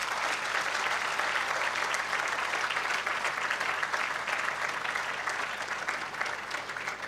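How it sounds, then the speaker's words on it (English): Sustained audience applause for graduates at a commencement ceremony, a thick, even wash of many hands clapping for about seven seconds without pause, fading slightly at the end. "A round of applause for the graduates."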